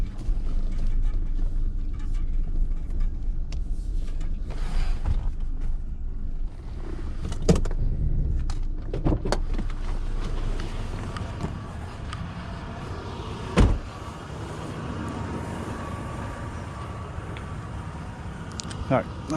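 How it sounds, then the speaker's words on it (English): A vehicle backs a Jon boat trailer down a ramp: a low engine rumble runs throughout, broken by occasional clunks and creaks, while a person talks over it. "I'm about to back the trailer down."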